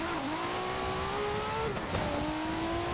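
A car in Forza Horizon 4, fitted with an airplane engine, accelerates with a steady rising engine drone that shifts pitch once, loud and continuous.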